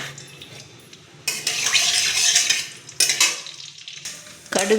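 Mustard seeds crackle and spit in hot coconut oil in a kadai, the spattering swelling in loud bursts with brief quieter gaps, close by and with no voices.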